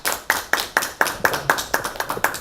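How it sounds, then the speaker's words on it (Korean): An audience at a humanities lecture welcomes the professor with clapping that is sharp, evenly spaced and rhythmic, about ten sparse, crisp beats in quick succession, fairly close and clear. "뜨거운 손뼉으로 환영해 주시기 바랍니다"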